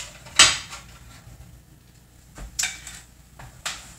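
Plates and dishes clatter as one is fetched in a home kitchen, with a sharp ceramic clink, then a dull knock and two more bright clinks spread over a few seconds, close and with no talking.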